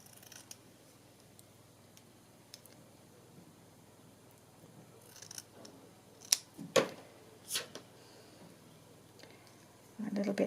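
Scissors snipping paper journal cards, a few sharp close cuts in quick succession against a quiet room, followed by a brief rustle.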